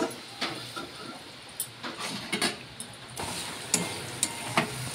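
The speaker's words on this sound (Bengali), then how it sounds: "ভাজা হচ্ছে, ভালো করেই ভাজা হয়ে গেছে আলুটা।" Potatoes fry in a pan for aloo bhaja, giving a soft, steady sizzle close by, broken by scattered clicks and scraping taps of stirring.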